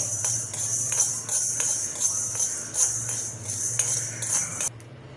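A spoonful of black peppercorns dry-roasting in a pan for a dahi vada spice mix, with a close, rhythmic rattle and scrape of stirring against the metal, no talk.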